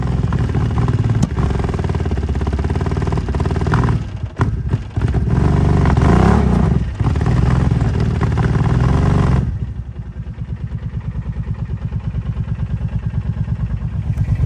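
A four-wheeler engine runs roughly and loud nearby with uneven clattering and sputtering, then drops to a lower, steady idle with a pulsing chug toward the end. There is no talk.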